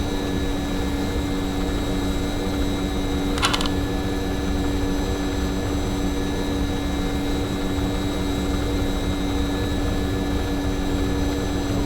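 The jet engines of an MD-80 airliner in the X-Plane 10 flight simulator give a steady, loud, broadband roar that stays constant throughout. A brief click sounds near the start.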